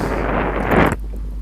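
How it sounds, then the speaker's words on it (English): Very strong wind sweeps across a fly-fishing bank, a loud broadband rush buffeting the microphone for about a second before it cuts off abruptly into quiet. "Wind's very, very strong, blowing from right to left"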